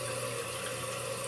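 A toilet tank refilling with water, a steady hissing rush of water through the fill valve, continuous and close with no voices.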